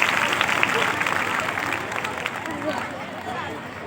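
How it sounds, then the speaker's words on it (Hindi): An audience at a secondary school Republic Day celebration claps loudly for a UKG kindergarten student. The dense applause blends with crowd murmur and voices, fading slightly toward the end. "इनके लिए एक बार जोरदार तालियां"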